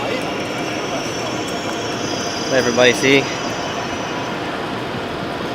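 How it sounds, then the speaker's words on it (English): Frankfurt train station platform ambience, a steady broad rumble of rail noise and hall echo, with a brief cluster of higher tonal squeals or chimes near the middle while someone talks over it. "The train station."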